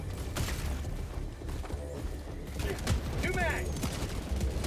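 Purifier weapon fire in Helldivers 2 comes as rapid bursts of gunshots over a dense, busy game soundscape with occasional mechanical whines.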